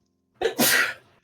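One close sneeze: a quick breathy catch, then a loud hissing burst fading out after about a second.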